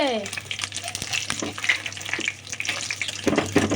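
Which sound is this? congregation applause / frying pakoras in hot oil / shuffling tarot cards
frying pakoras in hot oil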